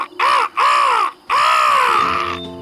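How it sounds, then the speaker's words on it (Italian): A crow caws in a cartoon: three loud, close, harsh calls in quick succession, the last one longer, with no talk around them. "Tu sei il corvo!"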